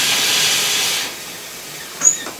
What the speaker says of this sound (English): open up the steam valve, get the steam in the head, get this old engine going